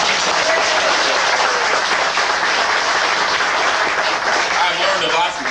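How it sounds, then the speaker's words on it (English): An audience gives tour guides a sustained round of applause, a loud, continuous wash of clapping that stays even throughout with a faint voice mixed in. "Give them one more round of applause."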